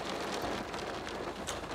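Rain patters steadily on a parked Kia Stinger GT Line+, a soft, even hiss of drops with no voices.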